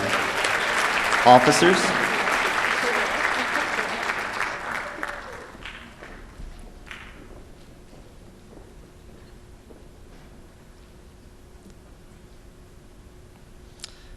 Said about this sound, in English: Let's have a round of applause for our